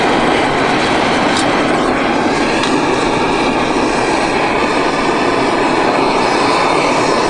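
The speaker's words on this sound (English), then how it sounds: "As you can hear, it's really loud because it" A loud, steady roaring hiss of a Jetboil MightyMo gas camping stove burning at full blast, constant and close, with no other sounds.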